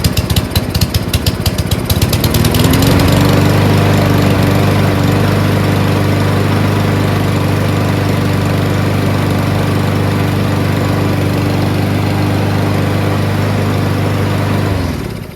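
A Cub Cadet lawn mower engine, just after a carburetor cleaning, starts at about two seconds and then runs steadily and loudly up close at a constant idle for the rest of the clip, with no talk.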